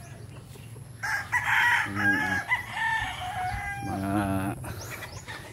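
A rooster crows twice nearby on a rural cattle-raising farm in the Philippine province, with loud, drawn-out calls; a voice briefly speaks at the start.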